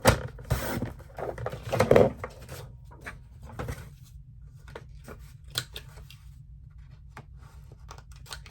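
Scissors cutting the fabric or paper to cover a notebook's back page, a cluster of close crisp snips and rustling at the start, then quieter scattered handling sounds.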